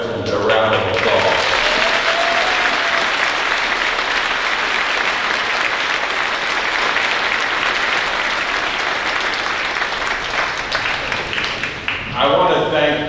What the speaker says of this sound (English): Let's give them all our veterans a round of applause.